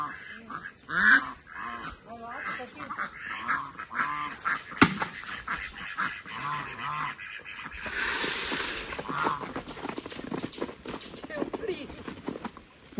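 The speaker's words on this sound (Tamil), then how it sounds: "வாத்தெல்லாம் அங்கே உட்காந்துருக்காங்க." Ducks on an estate quack and honk repeatedly in the background while a person talks nearby over outdoor noise.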